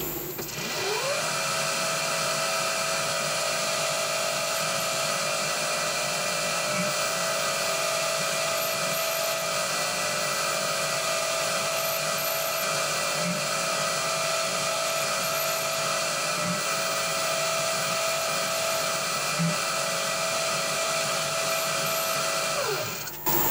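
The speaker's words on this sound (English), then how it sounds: "now we can drill right through this at number 28" A steady, loud power drill whine runs continuously for over twenty seconds, grinding through the metal cylinder head of a Titan .60 glow plug model engine with a constant high-pitched tone and no voices.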